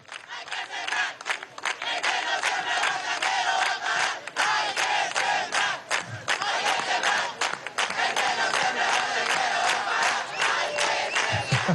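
A crowd at an outdoor government youth-employment event applauds and cheers for the young minister of urban agriculture, loud sustained clapping and shouts filling the whole stretch, with brief low thumps near the end.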